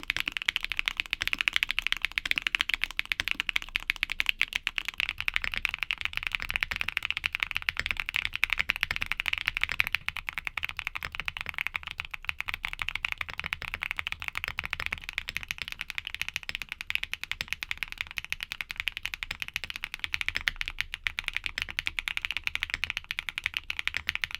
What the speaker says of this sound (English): here are back-to-back sound tests of all the switches